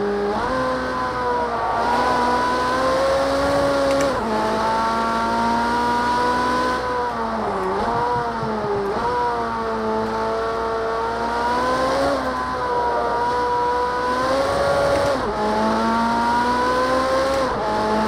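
A Ferrari race car in Project CARS 2 roars at high revs through a full four-wheel slide, its engine note rising and falling with gear changes while the tires squeal, loud and constant with no talk.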